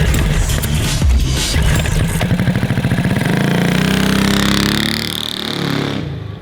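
A cheap 15 horsepower engine bought from Temu runs on a go-kart, a loud, rapid, buzzing small-engine putter that revs up and then drops off near the end, with no talking.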